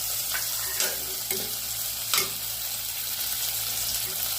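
Onion and tomato sautéing in oil with garlic and curry leaves for a brinjal and potato dish, a dense continuous sizzle with a few sharp spatula scrapes and knocks, no voices.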